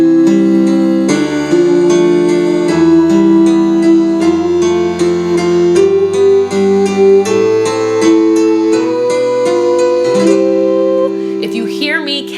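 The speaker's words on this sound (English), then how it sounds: "And you'll hear the piano play underneath you." Sustained sung vowel notes held over steady piano chords in a vocal warm-up exercise for singers, stepping through a rising and falling run, loud and close throughout.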